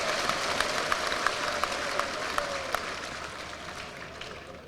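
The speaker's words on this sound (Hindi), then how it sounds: "इतनी बढ़िया तालियां तो यही बजती है" Steady, dense applause from a large audience at a panchayat secretaries' gathering in Madhya Pradesh, many hands clapping continuously at even loudness with occasional sharper individual claps standing out.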